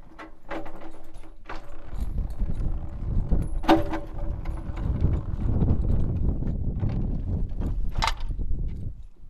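A saddle rack tipped back like a dolly and rolled down a Cimarron horse trailer ramp, giving close, steady rumbling with clattering knocks and a few sharp metallic clanks, with no talking.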